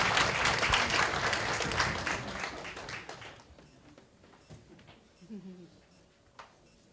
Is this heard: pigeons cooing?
no